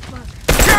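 A single loud rifle shot in a first-person video game, a sharp close crack after a brief stretch of quieter background noise.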